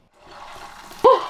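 Shower water on a Thai island, Koh Kradon, starts as a soft hiss and then gushes louder near the end of the short burst, close and alone without talk.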